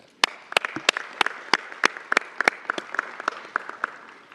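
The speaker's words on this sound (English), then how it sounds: "I think that it's worth applauding our community for doing that." An audience applauds at an outdoor Memorial Day ceremony, a sparse crowd giving scattered, distinct claps that thin into a light patter, moderately distant and fairly quiet.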